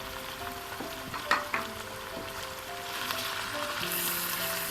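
Chicken with whole spices sizzles quietly in a karahi, a soft steady frying hiss with a few clinks of stirring, and no voices.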